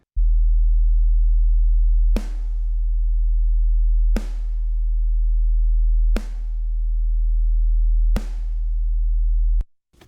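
A steady pure test tone hums alone, punctuated by four evenly spaced sharp clicks that briefly dip and then restore its level before it cuts off.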